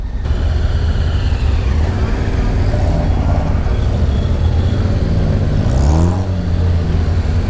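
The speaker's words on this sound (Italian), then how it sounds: "Allora sto provando sta moto" A motorcycle engine drones and revs loudly and continuously during a test ride, with steady low rumble and a brief rising rev near the end, heavy wind noise throughout.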